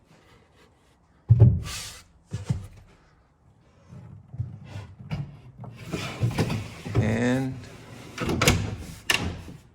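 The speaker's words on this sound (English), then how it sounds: "These glide really nice. And again, till it clicks in place." A soft-close drawer on a handmade wooden bathroom vanity cabinet slides shut and clicks into place, with a few close knocks and wooden thuds and someone speaking briefly in between.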